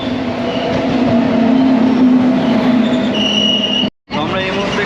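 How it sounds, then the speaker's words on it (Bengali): A delayed long-distance passenger train bound for Kedarnath pulls into Kasimbazar station, with a steady loud rumble of rolling wagons, a high squeal of wheels on the rails, and a brief cut near the end. "এখন ট্রেন ঢুকছে"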